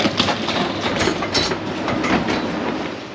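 A train rumbles and clatters as it pulls up at a platform with full-height screen doors in an underground station at Seoul Station, with steady wheel-on-rail noise and a few metallic squeaks, loud and continuous, with no talking.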